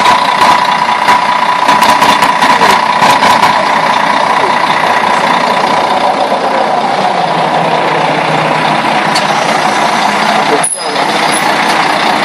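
A truck or bus passing on a road at Västerhaninge, a loud continuous engine rumble with some clicking and beeping, steady for most of the stretch before a brief dip near the end.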